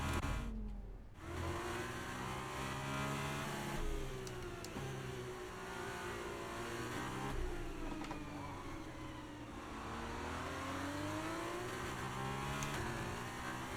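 A Formula 1 race car in F1 23 holds a steady, sustained engine drone with rising and falling revs as the throttle comes in early, continuous and fairly close, with no talk over it.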